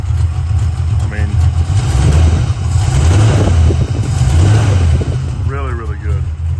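A 1990 Ford Mustang Fox body V8 with an FST RT Plus four-barrel carburetor idles with a steady, loud, low rumble throughout, and a voice is briefly heard near the end.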